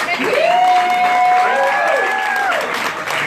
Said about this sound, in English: One more round of applause and you can go to your drinking, dancing, eating